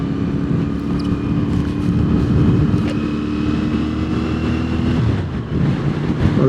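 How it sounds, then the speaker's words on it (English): A 2023 CFMOTO 450SR motorcycle engine drones steadily and fairly loudly, a smooth low exhaust hum with traffic noise mixed in. "A lovely sound from that exhaust."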